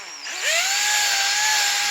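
A power drill spins up sharply and whines at a steady pitch while boring into a wooden fender part, loud and close, with no talking.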